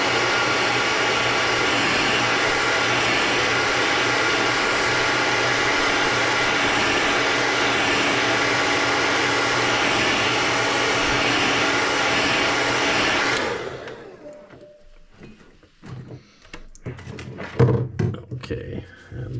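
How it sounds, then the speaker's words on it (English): A heat gun blows a loud, steady whooshing hum while setting running paint, then cuts off, leaving quiet handling noises and light thumps. "Let me just heat set this quickly"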